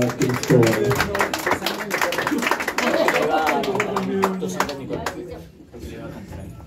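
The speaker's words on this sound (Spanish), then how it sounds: "Ese aplauso para Cristóbal." A small party crowd claps for Cristóbal's birthday at a mariachi celebration, a lively scattered round of applause with sharp individual claps, while people talk and call out over it before it fades.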